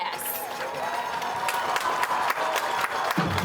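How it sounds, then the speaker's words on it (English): Crowd at a high school senior night applauding and cheering for the senior class, with dense steady clapping and scattered shouts throughout, voices mixed into the noise. "please give a big round of applause for this year's 2020 class"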